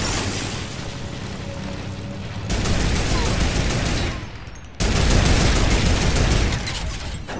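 A turret in a video game fires rapid, sustained bursts, loud dense rattling volleys broken by a short lull before a second heavy barrage.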